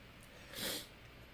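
A sudden burst of a sneeze from a person on a mic during a car tuning chat, one short breathy explosion, close and fairly loud against a quiet background.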